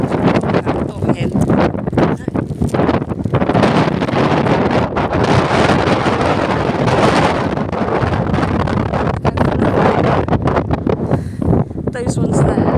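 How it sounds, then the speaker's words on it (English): Strong wind on Bodmin Moor in Cornwall, a loud constant roar and buffeting across the microphone lasting throughout, with a person speaking faintly beneath it. "it's so windy I can't hear if the stallion's coming"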